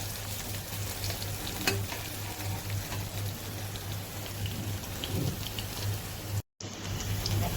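Onion and slit green chillies frying in oil until brown, a steady dense crackling sizzle with a low hum underneath and a brief dropout near the end.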